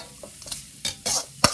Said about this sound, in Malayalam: ഇനി ഇതിലേക്ക് ക്യാപ്സിക്കം ഇട്ട് കൊടുക്കാം അതും കുറച്ച് ഒരു ചെറിയ പീസ് കനം കുറച്ച് അരിഞ്ഞത്